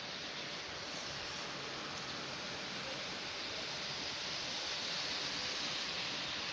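Steady rain falls outside on a quiet residential street, a continuous even hiss that holds at a constant level from start to finish with no voices.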